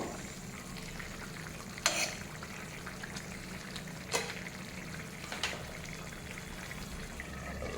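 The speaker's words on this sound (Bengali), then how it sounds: "এখন দিয়ে দেবো ভেজে রাখা মাছ মাথাটাকে একটু ঝোলের মধ্যে ডুবিয়ে দেবো" A fried fish head is lowered into a thin vegetable broth with cauliflower, giving a steady low bubbling simmer with a few sharp splashes and clinks, close and moderately loud, with no talking.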